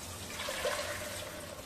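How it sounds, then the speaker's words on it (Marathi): Water poured into a pan of fried masala and ground dal for katachi amti, a brief gushing splash lasting under two seconds. "आता आपण त्याच्यामध्ये हे पाणी टाकणार आहोत."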